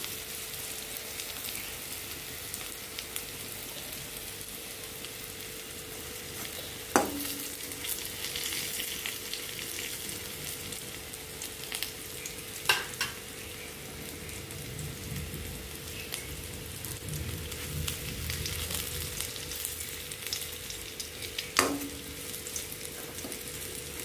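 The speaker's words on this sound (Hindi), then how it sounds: "बहुत ही अच्छी तरह से फ्राई हो गए हैं" Paneer frying in a pan gives a steady, crackling sizzle like light rain, with three sharp clinks or taps spaced through it and no talk.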